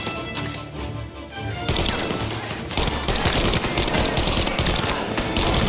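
Submachine gun fire in the video game Mafia: Definitive Edition: loud, rapid automatic bursts crackle almost continuously after a brief quieter opening, dense and close with echoing impacts.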